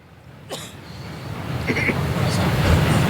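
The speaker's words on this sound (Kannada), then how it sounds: "ಟ್ರೈನ್ ಹೋಗ್ಲಿನ" A train rumbles closer, its noise steadily building over a few seconds, with a brief clank and a voice over it.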